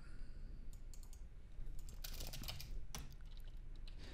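Faint, light keyboard taps and clicks as a Windows plus space shortcut is pressed, a few quick strokes clustered in the middle over steady background hiss.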